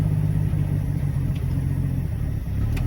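Old International truck with a worn-out clutch, throttle and ignition, its engine rumbling low and steady while driving, close and loud throughout, with no talking.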